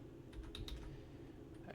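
A short, faint run of computer keyboard typing gives a few soft key clicks over a low background hum, with no voices.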